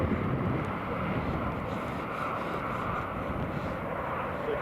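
A KLM Boeing 737-800 departs from Newcastle International Airport, its engines producing a broad, steady roar that is loudest at the start and holds at a strong level, with faint voices beneath.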